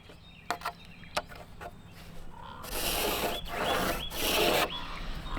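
A wooden deck riser is cut off at ground level on a front deck, starting with a few scattered taps and scrapes, then giving way to about two seconds of loud, steady rasping cuts with short rhythmic strokes.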